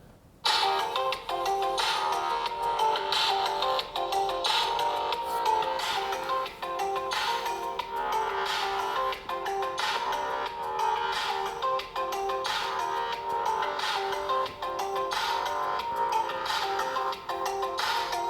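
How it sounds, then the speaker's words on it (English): Tinny, distorted audio blares continuously from the small loudspeaker of a Doogee N40 Pro phone, loud and harsh with a clipped, crackly edge throughout. "the speaker does get pretty loud, but there is quite a bit of distortion"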